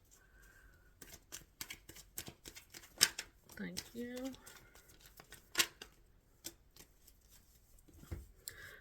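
Tarot cards are shuffled by hand in quick, crisp riffles and slaps, close and fairly quiet, with a soft voice speaking briefly in the middle.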